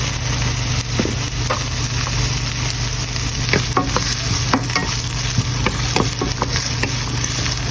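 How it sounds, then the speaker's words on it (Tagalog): Onion sautéing in a hot pan, with a dense steady sizzle and frequent clicks and scrapes from stirring, close and loud, over a low background hum. "So, ngayon, magsuti na tayo. Lagay natin yung onion."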